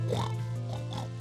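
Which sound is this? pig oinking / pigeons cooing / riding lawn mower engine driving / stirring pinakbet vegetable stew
pig oinking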